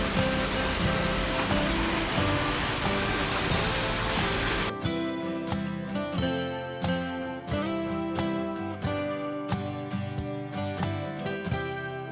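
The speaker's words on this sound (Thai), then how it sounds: "นี่น้ำตกครับ" Waterfall at Wat Rong Khun temple: a loud, steady rushing roar for the first few seconds, then it cuts abruptly to music.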